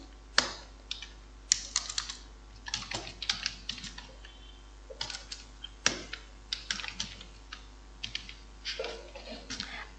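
Data is typed into Microsoft Word on a computer keyboard, giving close, irregular clusters of fast key clicks with short pauses between bursts.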